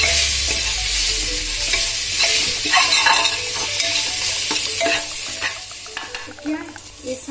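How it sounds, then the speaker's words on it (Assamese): Chopped cashews with sugar frying in a pan for a rice pulao while being stirred, a steady sizzle punctuated by repeated scraping and clicking strokes of the spoon, close and fairly loud. "এতিয়া কাটি লোৱা এই কাজুখিনি আৰু অলপ ভালদৰে লৰাই দিলোঁ"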